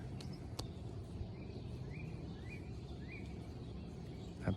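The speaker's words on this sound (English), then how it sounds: "That bird is a cardinal we're hearing over there." A cardinal sings outdoors: several short, faint whistled phrases carry from a distance over a low ambient background, with a few sharp clicks nearby.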